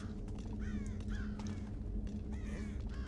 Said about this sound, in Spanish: El puto pájaro de los cojones